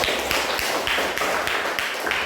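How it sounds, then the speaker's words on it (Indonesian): A class of students claps together in a repeated rhythmic pattern, loud and close, with evenly spaced sharp bursts of hand claps and brief voices in the room. "Ya, kita akan tepuk tangan dulu berkali-kali."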